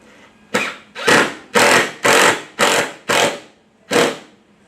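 An impact driver sets a screw into wood for a pocket-screw joint made with a Kreg jig. It fires seven short, loud whirring bursts in an uneven rhythm, each lasting under half a second, close by and with no talk.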